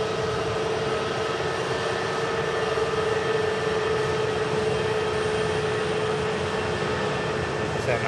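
A steady jet whine and broad roar from Pegasus and Ryanair airliners taxiing and arriving at an airport, heard at a moderate distance as one continuous drone throughout.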